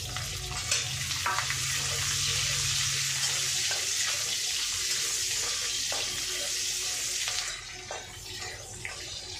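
Onion and chilli sizzle loudly in oil in a wok, a continuous frying hiss with scattered scraping stir sounds, easing off slightly toward the end.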